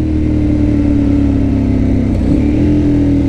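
A motorcycle fitted with a Termignoni exhaust runs loud and close, its steady deep engine drone dipping briefly before the revs climb back.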